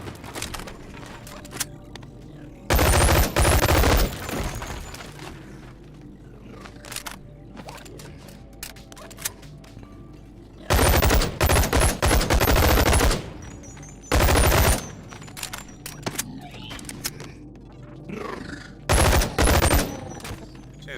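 Gunfire in the VR game Boneworks: several loud, sharp bursts of automatic fire break out in separate clusters over a quieter background of ambient game noise.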